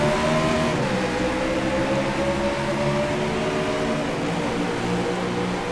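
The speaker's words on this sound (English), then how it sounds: "Green flag flies and we're off to the races here tonight." A pack of stock cars roars away together at the green flag at Dover in a sim racing game, a steady, loud layered engine drone with rising whine, continuous and alone without voices.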